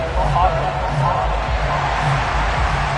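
A loud, continuous roar of a large stadium crowd at a Texans vs. Titans football game fills the space, steady and dense, with an announcer's voice speaking over it.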